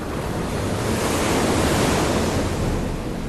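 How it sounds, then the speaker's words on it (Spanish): Ocean waves driven by tropical storm Beryl roll onto the sand at Rockaway Beach in Queens, a steady, loud, dense roar of surf mixed with wind rumble, with no voices. "Hoy tenemos a la tormenta tropical Beryl enviando estas olas que han arrastrado la arena de la playa"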